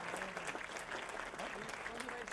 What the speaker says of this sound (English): A round of applause, please, for Cyrus Brocha and Zenobia Gandhi.